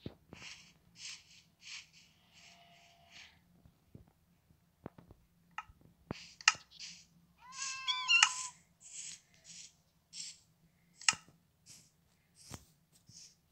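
An ocelot cat in Minecraft gives a short, clear meow in the middle, amid a scattering of small game clicks and faint taps over a quiet low hum.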